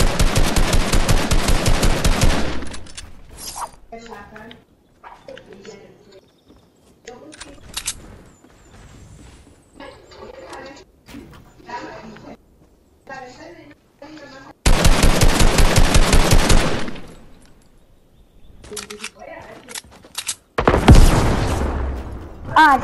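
Rapid machine-gun bursts from the Fortnite shooter game fire loudly in long sustained volleys at the start and again near the middle and end, with quieter game sounds and occasional talk in between.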